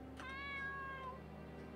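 A cat in the RPG Maker horror game Aria's Story gives a single clear, drawn-out meow over a quiet low background hum.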